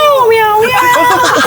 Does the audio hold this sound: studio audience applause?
no